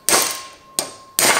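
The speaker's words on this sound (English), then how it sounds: "You'll need a punch and a hammer, and we want to take this drive pin" Hammer striking a punch to knock the drive pin out of a single-seat golf buggy motor: three sharp metallic blows, close and loud, each ringing briefly before fading, with a short pause after the first.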